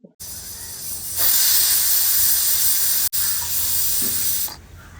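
A pressure cooker holding duck roast hisses loudly with a strong, steady jet of steam that swells, cuts off briefly, then resumes before dropping away.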